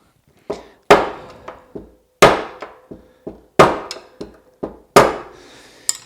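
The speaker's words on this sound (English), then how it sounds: "So I see that I have to hammer a little bit more here." A hammer strikes a rear wheel bearing bushing on a Bülk velomobile, giving sharp, ringing metallic knocks in uneven clusters of loud and lighter blows, close up with no voices.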